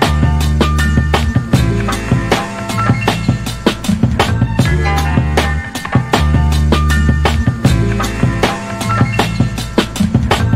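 Boom bap hip hop beat built from a sample layered with bass and drums, steady punchy kicks and snares in a looping rhythm over sustained melodic sample tones, loud and full throughout with no talking.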